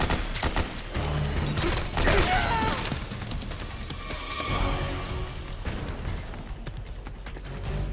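Sustained gunfire from a Metal Gear Solid 4 battle, bursts of shots and mechanical clatter packed densely together over a steady wash of combat noise, loud throughout with no clear pauses.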